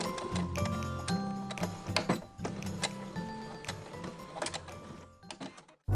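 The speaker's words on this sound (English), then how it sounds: "There's a guideline on the back, so just sew right along that line." A sewing machine stitches along a guideline on a fabric gift bag, its needle running in steady mechanical bursts with brief pauses, close and fairly loud, with no talking.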